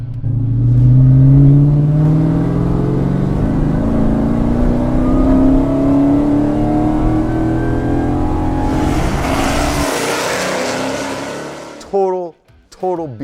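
A Mopar car accelerates hard, its engine revving and climbing steadily in pitch with a loud, close roar, then a rush of wind and road noise before a few short squeaks near the end.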